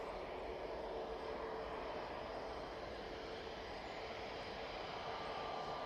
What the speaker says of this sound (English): That's 737-800 off to Palma de Mallorca.